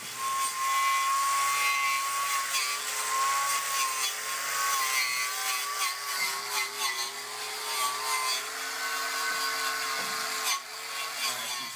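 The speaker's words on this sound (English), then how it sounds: "now we're ready to buff the ears, get them nice and clean." A power tool buffs car body metal near spot welds, a high whining grind with wavering pitch that holds steadily and dips briefly near the end, close and loud with no talk.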